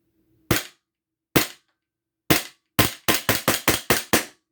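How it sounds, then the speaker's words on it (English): A Glock 34 airsoft pistol fires sharp, loud cracks: three spaced single shots, then a rapid string of about six quicker shots, with near silence between them. "Slide does lock back after the last shot."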